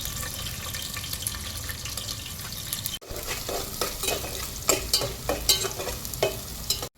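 Onions and green chilies fry in oil for a dry fish gongura curry, a close hissing sizzle that jumps after a brief cut, then rhythmic scraping stirs, with no one talking.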